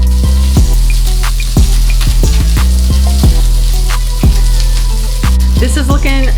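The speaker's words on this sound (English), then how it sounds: "After a few minutes of cooking on a medium to high heat, you wanna check your wings and see if they're ready to flip or toss around." Chicken wings frying in a pan over medium-high heat, a loud, constant close-up sizzle punctuated by sharp crackles and pops at irregular intervals throughout.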